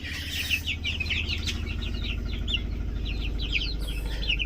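Desi country chickens cluck and chirp on a farm in Odisha, with a busy, continuous stream of overlapping calls over a steady low hum.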